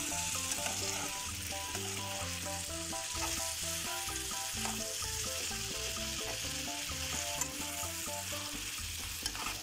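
Bitter gourd (ampalaya) sautéing in a hot pan: constant loud sizzling with occasional utensil scrapes and stirs, heard close under a faint music bed with no voices.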